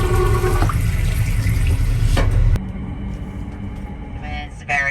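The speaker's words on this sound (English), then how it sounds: "It seems that your business flushes directly onto the tracks, as you can hear when the flap opens." A train carriage toilet flushes straight onto the tracks, a loud rushing whoosh with rumbling running noise beneath, then the flap shuts and the sound drops abruptly before a brief burst returns.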